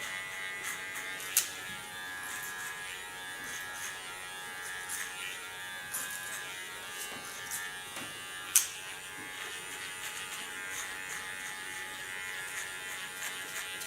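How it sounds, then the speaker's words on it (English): A barber's cordless electric hair clipper hums steadily at a thin, high pitch throughout while cutting hair. Two sharp clicks stand out, and no one talks. "This is a real clipper, but it's also very nice to work as a barber with"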